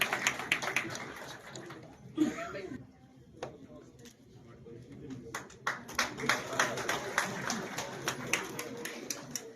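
Audience applause at a political gathering in Satara, scattered claps growing into a sustained round of clapping in the latter half, moderately distant, with a voice speaking over the start.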